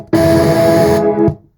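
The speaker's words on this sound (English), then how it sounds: "So you can add distortion here." A short distorted, bit-crushed synth tone from a producer plugin effect, harsh and buzzy, sounding for just over a second before cutting off.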